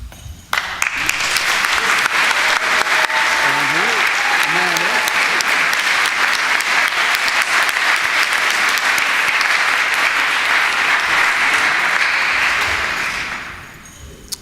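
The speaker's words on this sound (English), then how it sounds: "seniors, please give them a round of applause, but thank you all for doing that" Sustained audience applause at a school graduation ceremony, recognizing faculty members; a dense, loud wash of clapping that holds steady for over ten seconds before tapering off, with faint voices and a few tonal sounds underneath.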